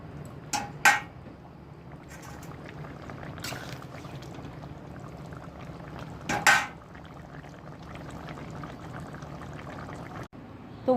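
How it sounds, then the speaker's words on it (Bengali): Rohu fish curry with potato and eggplant simmering in a pot, a steady low bubbling and hiss running throughout with a few brief clinks and sharper splashes standing out, no talking. "তরকারিটা হালকা একটু ফুটে নেবে, নামিয়ে নেব।"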